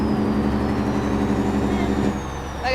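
A heavy truck engine drones steadily in American Truck Simulator, a low muffled rumble heard from inside a soundproofed cab, with a faint high whine above it and a brief drop in level near the end.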